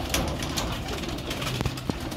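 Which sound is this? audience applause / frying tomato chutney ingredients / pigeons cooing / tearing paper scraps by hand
pigeons cooing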